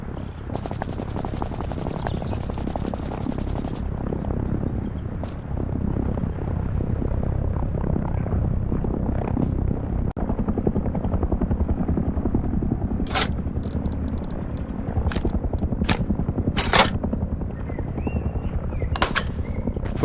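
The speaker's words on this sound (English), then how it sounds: "There aren't any planes or helicopters showing on the map, but I can definitely hear one." A helicopter in the survival game Rust drones steadily nearby for about twenty seconds, a continuous low rotor rumble, with occasional sharp metallic clicks and bursts layered over it.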